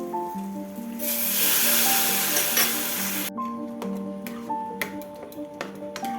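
Boiled dal hits a pan of fried onion and chilli with a loud rushing sizzle lasting a couple of seconds, then cuts off abruptly, leaving sustained tones and light clinks.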